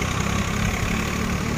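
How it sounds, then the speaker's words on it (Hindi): A tractor engine near a waterfall at Bhairabkunda, a loud steady low idling rumble with constant vibration throughout, close by and without any talk. "ट्रैक्टर बहुत आवाज़ करते हैं"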